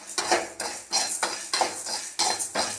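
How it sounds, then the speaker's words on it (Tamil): Lentils and spices, including fenugreek, dry roasting in a pan for tamarind kuzhambu, with a rhythmic series of about five scraping, rattling stirs of a metal spoon, close up with no talk. "லைட்டாக வறுக்கிறேன்."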